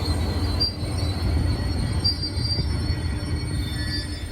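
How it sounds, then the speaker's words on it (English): An Amtrak Southwest Chief passenger train rumbles steadily along the rails with a thin metallic squeal from the wheels, continuous and fairly close, with no voices. "let's take the Amtrak from Barstow to Kansas City on the Southwest Chief"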